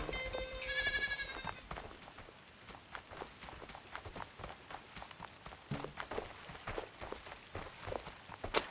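A sheep bleats briefly at the start in the video game Superbrothers: Sword & Sworcery EP, followed by a run of soft, rhythmic footstep-like thuds and scuffs.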